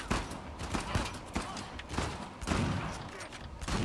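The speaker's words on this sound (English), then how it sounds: "It's got quite good range, this shotgun" Repeated shotgun blasts in Uncharted The Lost Legacy, several sharp bangs spaced irregularly amid a busy, noisy firefight.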